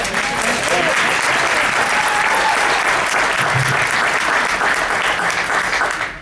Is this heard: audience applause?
yes